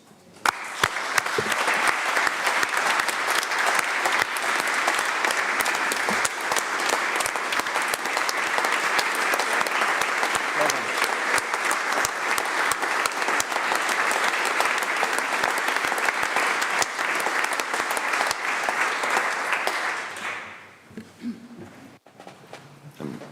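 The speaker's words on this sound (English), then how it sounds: "There'll be perhaps, let's go for it, a round of applause" Sustained round of applause at a county council meeting for a retiring council member, steady and full for about twenty seconds before tapering off abruptly into quiet room noise.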